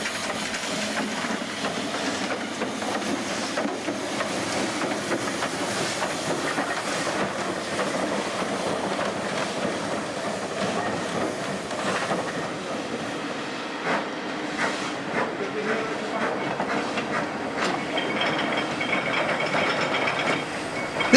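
Steady rumble and clatter of a passenger-carrying steam engine on the Snowdon mountain railway, a 1923-built locomotive, heard continuously at moderate loudness with rhythmic rail clicks and no talk.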